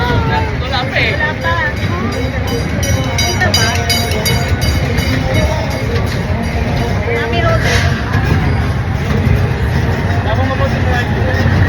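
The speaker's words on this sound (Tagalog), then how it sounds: "the train is starting" A train pulls away inside a busy station or carriage, a steady low rumble and rolling noise holding for the whole stretch, with crowd babble and voices chattering over it.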